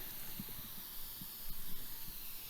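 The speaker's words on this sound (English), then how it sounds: "Okay, so now the steam's going away." Steam from a pot of Halloween recipe cooking gives off a faint, steady hiss in the kitchen, soft and continuous with a few light bubbling taps beneath.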